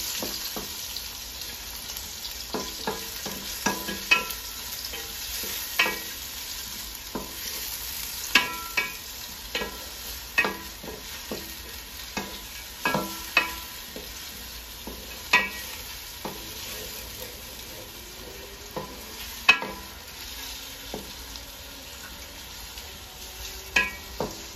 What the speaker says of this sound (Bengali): পেঁয়াজ, একটু ভেজে নিব